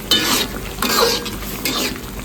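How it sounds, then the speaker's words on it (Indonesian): Sapo tofu with squid is stirred in a sizzling pan, with a steady frying crackle and a few scraping, swishing strokes of the utensil, close and clear with no talking. "Kita aduk."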